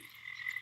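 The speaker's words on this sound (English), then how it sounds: "Y'all can hear the frogs and everything else in the background," A dense chorus of frogs croaks steadily in the background, soft and distant, with no talking, at a quiet catfishing spot.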